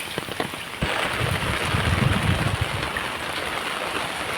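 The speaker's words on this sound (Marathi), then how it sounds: "पाऊस बघा किती आहे रस्त्याला" Heavy rain pouring onto a road, a dense, steady hiss of drops that strengthens after the first second and continues unbroken, with no talk.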